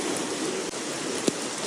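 Rain falls in Fiordland, a steady soft hiss of drops filling the outdoor air, fairly faint and even, with a brief tap near the end.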